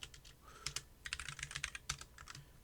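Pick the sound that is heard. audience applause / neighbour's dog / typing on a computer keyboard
typing on a computer keyboard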